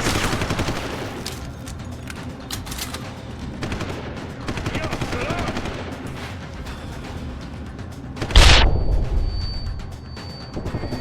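Gunfire in Deus Ex: Human Revolution crackles in fast repeated bursts, layered with shouting voices, then a single loud booming blast near the end followed by more shots.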